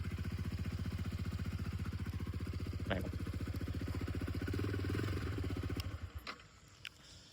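A motorcycle fitted with a full aftermarket exhaust idles with a steady, deep, rapid low thump, close and continuous, until the engine is cut near the end and a couple of faint clicks follow.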